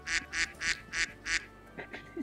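A duck in a video game quacks five times in an even, close rhythm, then gives two softer quacks at the end.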